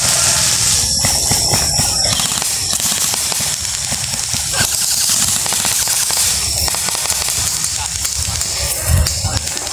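Airsoft guns fire during a nighttime military simulation war game at an outdoor field, a dense spray of sharp pops and hissing bursts over a constant noisy background, with talk mixed in throughout.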